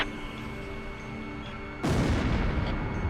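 Heavy bombardment in the Ace Combat Zero flight game: a low rumbling backdrop suddenly erupts into a loud, sustained roar of bomb blasts that stays dense and booming to the end.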